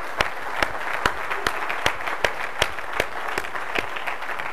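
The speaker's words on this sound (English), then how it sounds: "Can we have a round of applause for all the people, our sponsors and volunteers" An audience at a tech conference applauds steadily, many hands clapping together in a dense, even wash with a few sharper claps standing out.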